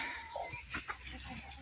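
Chickens cluck close by in short, overlapping bursts, excited and fairly loud.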